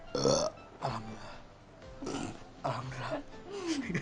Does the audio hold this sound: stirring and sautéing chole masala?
no